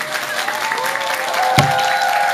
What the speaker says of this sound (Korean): 이제 박수를 치시면 됩니다.